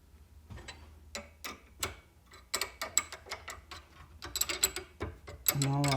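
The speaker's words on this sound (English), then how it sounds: "I'll thread out my nut and bolt." A nut being threaded along a bolt on an MGB front shock absorber, giving a series of close, sharp ratcheting clicks and metallic ticks in irregular bursts with brief pauses.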